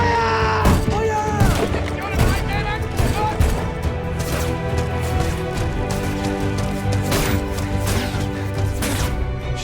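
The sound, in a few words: gunfire in a DCEU movie battle scene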